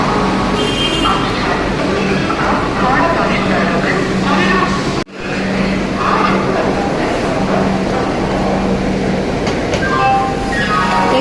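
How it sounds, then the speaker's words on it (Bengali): A train pulls into a station with a steady, loud rumble and rattling carriages. A low drone runs under the whole arrival, and people talk over the noise. "তো আমাদের ট্রেন এসে গেছে।"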